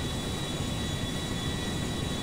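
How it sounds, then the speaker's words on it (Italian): A giant airplane in GTA 5 Online gives a constant, dense engine roar, loud and unbroken throughout, with a thin high whine on top. "Che casino che fa sto aereo."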